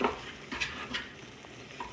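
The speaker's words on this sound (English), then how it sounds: "Give that a good stir." A crumble mixture is stirred in a bowl with a utensil, making soft scraping and light clinking strokes in an uneven rhythm, close and fairly quiet, with no voices.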